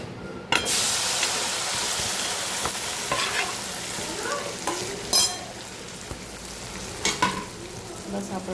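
Pieces of dhokla drop into a hot tempering pan with a sudden loud hiss, then keep sizzling and frying while being stirred, with a few sharper crackles flaring up, close by and without talk.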